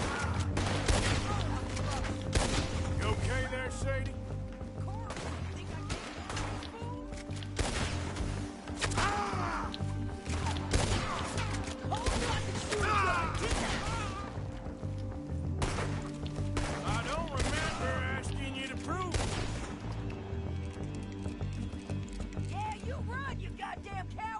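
Repeated gunshots and bursts of fire ring out in a Red Dead Redemption 2 shootout, mixed with hoofbeats and game sounds, with voices talking over the action throughout.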